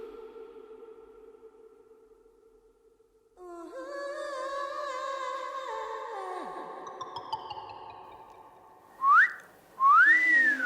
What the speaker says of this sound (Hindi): आपने सीटी क्यों मारी?